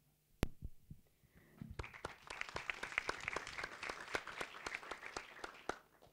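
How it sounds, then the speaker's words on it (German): Audience applause at a panel discussion: dense, steady clapping from a crowd that starts after a couple of sharp claps and keeps going evenly for several seconds, fairly quiet overall. "dass ihr mal klatscht"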